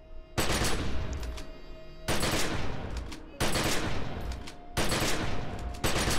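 Four hard-edged bursts of ranged weapon fire from the Safety Off single-target attack in The Secret World, each a dense, loud volley lasting over a second, with brief gaps between them and no talk.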